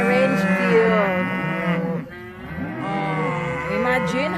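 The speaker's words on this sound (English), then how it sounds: "70 cows, Angus cows." Angus cattle on a ranch in Poolville, Texas, moo loudly and close by in long, drawn-out calls, one bellow after another with a short lull in the middle.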